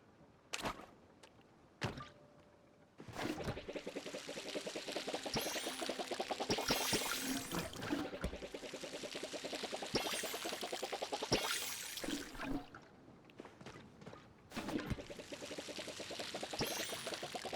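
Crops being watered in the farming video game Palia, a run of repeated splashing pours and soft thunks that fill most of the stretch, with brief quieter gaps between bursts and no voices.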